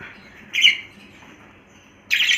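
A tame pet bird gives two loud, close, harsh squawks, one short burst near the start and another at the end, with quiet room sound between and no talking.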